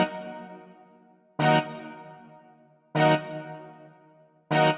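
Synth plucks in an FL Studio beat, each a bright, sharp attack with a long, smoothly decaying ringing tail, repeating about every one and a half seconds, clean and alone.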